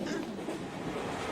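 Train running on rails gives a continuous, fairly quiet rumbling rush with no distinct breaks, heard alone without talk.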